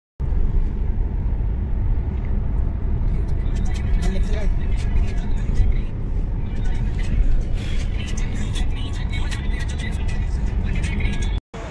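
A car driving off toward the airport in Malaysia gives a steady, loud road and engine rumble with wind hiss that runs unbroken until an abrupt cut.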